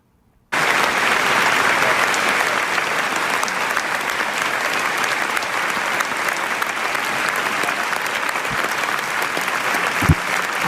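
Sustained, loud applause from a large crowd honors Iranian filmmaker Panahi, starting abruptly after a brief silence and continuing as an even, dense roar of clapping with one sharper spike near the end.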